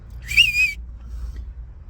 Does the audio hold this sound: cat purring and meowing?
no